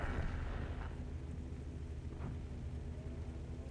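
A deep, booming tank cannon blast in World of Tanks Blitz, from a Turtle Mk I, rumbles under continuous low engine drone, with another dull thud a moment later.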